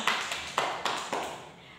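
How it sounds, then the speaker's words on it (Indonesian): Hand claps from a classroom group, a few sparse distinct claps in an uneven rhythm, fairly close and moderately loud with no talking over them. "Tepuk tangan untuk kita semua."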